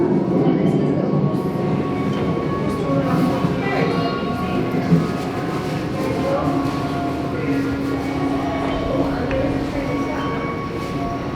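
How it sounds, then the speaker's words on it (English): Two trains roll past in a steady rumble and rattle at Efteling during a storm, with a continuous roar of rail noise and faint squeals throughout, fairly close. "Two trains passing."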